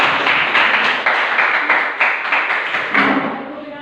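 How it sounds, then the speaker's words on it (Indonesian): An audience applauds at a teacher-training session, a dense burst of clapping that stays strong for several seconds, then gradually thins out. "Mari kita beri tepuk tangan."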